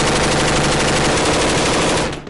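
Rapid, loud automatic gunfire from soldiers on the front lines in Afghanistan, a dense unbroken burst of close shots lasting about two seconds before cutting off abruptly.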